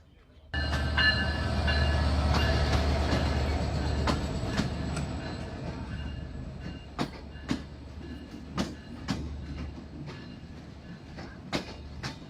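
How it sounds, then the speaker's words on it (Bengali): Kapotaksha Express bound for Rajshahi pulling away from a station, a loud diesel rumble starting abruptly and holding, then easing as sharp rhythmic wheel clicks and clanks repeat while the train gathers pace. "ছেড়ে যাচ্ছে রাজশাহী অভিমুখী কপোতাক্ষ এক্সপ্রেস"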